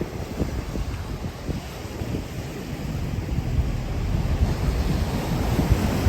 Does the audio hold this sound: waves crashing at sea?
yes